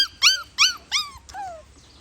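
A small Schnoodle puppy lets out four high, yipping barks in quick succession, close and clear, the last one trailing into a whine.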